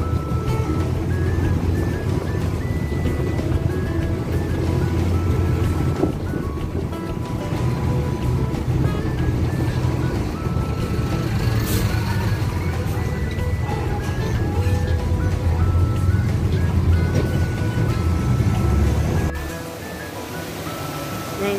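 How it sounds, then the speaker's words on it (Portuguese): Water rushes continuously at the Balneário Três Cachoeiras waterfall in Penedo, Rio de Janeiro. The roar is loud and steady, with a broad even wash of sound that drops off slightly near the end. "Aqui é a cachoeira Balneário Três Cachoeiras, que é o nome aqui."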